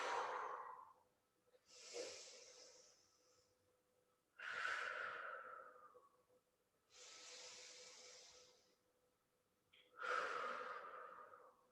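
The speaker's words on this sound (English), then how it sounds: "Nice deep breaths, relaxing the upper body." Slow, deep breathing during a hamstring stretch, five long airy inhales and exhales spaced a few seconds apart, close and soft with no talking.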